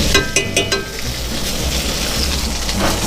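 Herb butter sizzles loudly in a pan while being spooned over salmon, a constant close frying crackle with a few light metallic clinks of the spoon early on.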